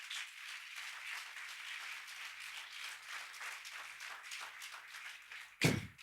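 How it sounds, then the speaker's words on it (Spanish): A church congregation applauds for Jesus during a sermon, a soft, thin patter of clapping continuing evenly at a distance, ending with a couple of abrupt louder bursts near the close. "¿Cuánto le dan un aplauso a Jesús por eso?"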